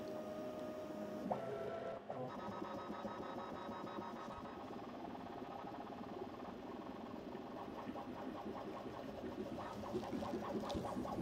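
A CNC drawing machine running a line-drawing job, giving a steady close mechanical whir with fine, rapid stepper ticks and small rattles, and no voices.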